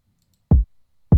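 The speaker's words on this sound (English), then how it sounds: "I barely use this kick. It's just to put emphasis on the 1 and right before the 1." A lone kick drum from a trap beat thumps twice, short and deep, with a gap between hits and no other instruments.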